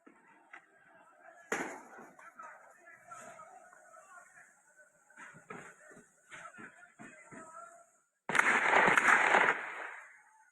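Gunfire from the air during violent street unrest in Pakistan: a sharp loud crack, then scattered bangs and pops amid crowd noise, ending in a sustained loud burst of shooting that drowns out the background.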